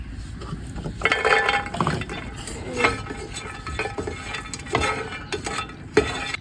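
Rice and garlic frying in oil for a Bangladeshi Eid beef bhorta, with a spoon clinking and scraping against the pan in irregular bursts. Faint sizzle stays underneath throughout, and no one speaks.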